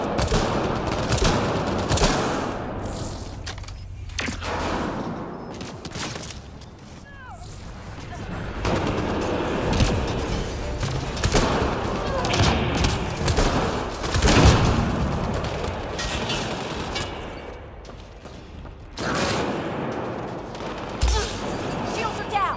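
Assault rifle fire in the sci-fi shooter Mass Effect: Andromeda comes in repeated bursts of sharp shots mixed with explosive booms and combat effects, loud and irregular throughout.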